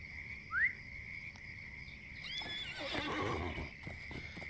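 A horse in the game LOTRO whinnies clearly, and soft hoof steps follow amid a steady outdoor backdrop of insects and frogs, with a second rising neigh partway through.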